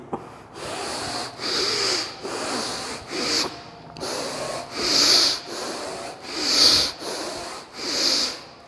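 Palms rubbed briskly together during a fitness and yoga routine, giving about eight distinct close swishing strokes in a steady rhythm with short pauses between them, with no voice over them.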